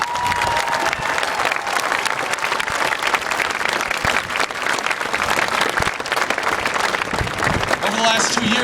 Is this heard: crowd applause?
yes